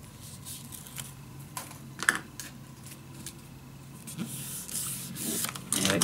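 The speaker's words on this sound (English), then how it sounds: "peel it off, keep everything steady" Backing paper peeled off a scrapbook accordion page, a quiet, close rustle with small ticks and crinkles that builds into a longer, louder ripping hiss near the end.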